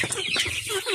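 Backyard chickens kept in a coop cluck in a short, busy burst of overlapping calls, close and fairly loud with no talking.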